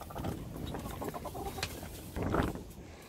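Chickens cluck close by inside a polytunnel on an allotment in a series of short, irregular bursts, with a louder cluck near the end.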